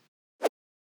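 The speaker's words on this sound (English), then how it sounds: "and the whip sound sounds like this." A short synthetic whip effect from an electronic dance track production, one quick swelling burst that cuts off sharply, heard alone and clean.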